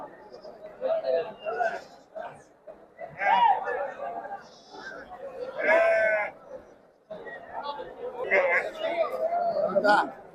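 Sheep bleat at the Chitradurga sheep market. Several wavering calls rise out of a steady background of people chattering and haggling close by.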